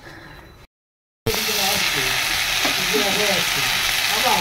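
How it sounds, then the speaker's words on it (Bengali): Potatoes and pumpkin pieces fry in a thin layer of oil for breakfast, giving a steady, close broadband sizzle that starts abruptly after a short silent gap, with faint clinks and stirring scrapes over it. "ব্রেকফাস্টে বানাচ্ছি দেখো এই যে আলু আর কুমড়ো ভাজা"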